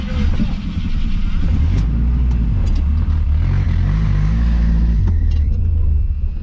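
Old barn-find classic car engine running at idle, a steady low rumble that stays loud and close throughout, with faint ticking on top.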